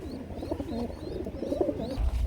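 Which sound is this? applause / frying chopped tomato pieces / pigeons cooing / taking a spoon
pigeons cooing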